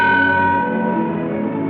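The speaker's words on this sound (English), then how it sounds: "Sound the bell once." A single ship's bell struck once aboard a vessel, ringing loud and close with a bright metallic tone that decays slowly across the whole clip.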